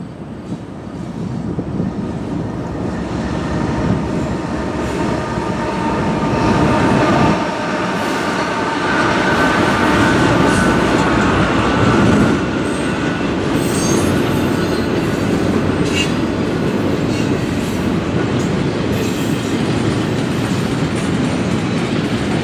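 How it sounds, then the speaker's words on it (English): A freight train rumbles past close by in Ohio with its horn sounding, steady clickety-clack wheels and occasional squeals, loud and continuous throughout. "another horn, which means another train is on its way"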